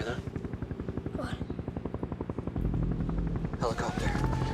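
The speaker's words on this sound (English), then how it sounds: "Helicopter." A helicopter thuds steadily with rapid rotor chopping, growing louder and heavier partway through as it draws near, with people's voices breaking in over it in a tense outdoor scene.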